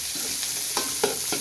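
Onion and ginger sizzle in a hot frying pan as they are sautéed. A spatula scrapes and stirs them in a few quick strokes over a constant frying hiss.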